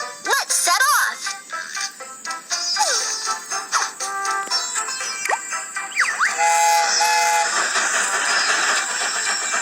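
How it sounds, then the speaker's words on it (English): A cartoon train sets off with chugging, hissing steam and rising and falling whistle toots, layered with bright, busy musical sound effects throughout. "The train is about to start. Let's set off."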